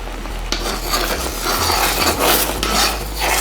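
Chunks of watermelon and melon with a little water cooking as jam in a pot over medium heat, a dense bubbling hiss with low rumble and occasional utensil contact, near and steady.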